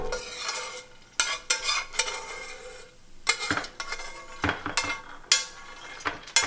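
Toasted pine nuts scraped out of a hot pan with the heat turned off, a close run of sharp metallic clinks and scraping strokes with brief quiet gaps between them.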